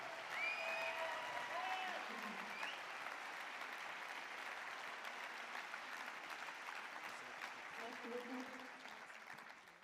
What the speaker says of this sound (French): Bravo Heidi, on l'applaudit encore, allez plus fort